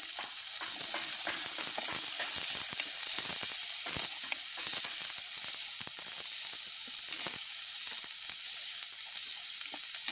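Fennel seeds and onion fry in a pan, giving a steady, dense sizzle that runs the whole time, with scattered crackles and pops, close and fairly loud, and no voices.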